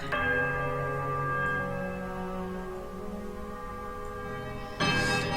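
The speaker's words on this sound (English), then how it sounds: "There's a quiet melodic chime from all 3 bells" Three temple bells in the game Pillars of Eternity ring out together in a soft, melodic chime whose layered tones hang and slowly fade, before a fresh, brighter strike near the end.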